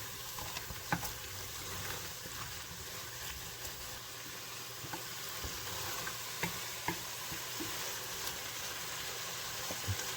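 Wooden spoon scraping the bottom of a pan of chilli over the heat, a steady sizzle with scattered soft ticks and scrapes, close and fairly quiet, no talking.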